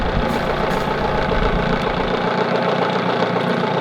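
Outboard-style motor on a sailing yacht at a rolly anchorage, running steadily after being restarted, a continuous close engine drone with low rumble that thins out partway through, no voices.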